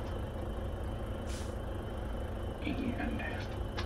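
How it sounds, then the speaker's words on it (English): Truck air brakes being set on a tractor unit, a short hiss of released air standing out over a steady engine idle, with someone talking nearby. "Go ahead and set the brakes here."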